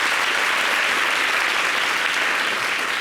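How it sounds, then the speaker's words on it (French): A studio audience gives loud, dense, sustained applause throughout, with no pauses. "Applaudissez pour moi, s'il vous plaît."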